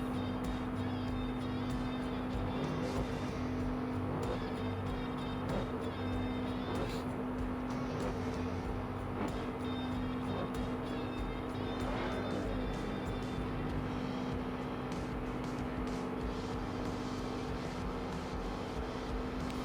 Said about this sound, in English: A couple cars getting their engines revved